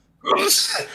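One sharp, loud human sneeze bursts out close by in a quiet room during a podcast recording, with a short breathy tail as it fades.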